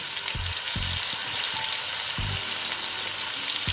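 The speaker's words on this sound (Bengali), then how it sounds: "দিয়ে ভালো মতন ভেজে নেব আলুটাকে আমি ভালো মতন ভেজে নিচ্ছি" Potato pieces fry with turmeric in an oiled pan for a Bengali banana-flower mocha ghonto, a loud steady sizzle close by, punctuated by regular low thumps and scrapes of a spatula stirring.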